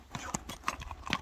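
A horse's hooves clip-clop in a few quick, close, uneven strikes over about a second, with faint background noise.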